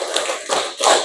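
A group clapping their hands together in a counted clapping game in a counseling class, with three quick, close bursts of claps in a steady rhythm and no talk.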